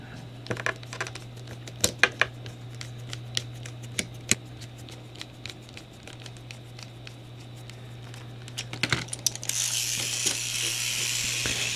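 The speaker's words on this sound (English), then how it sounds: "And now let's put all the 4 screws." Four screws are driven in while something is reassembled, making a run of small ratcheting clicks and metallic ticks at close range, with a brief rougher rattle near the end and no speech.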